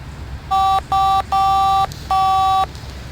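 Four short, clear touch-tone beeps sound in quick succession as a phone number is dialed in The Da Vinci Code video game, over faint background hiss.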